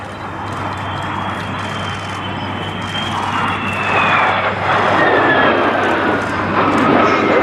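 Two de Havilland Vampire jets flying at the Duxford airshow, a continuous jet roar building in loudness, with rising and falling whine as they pass.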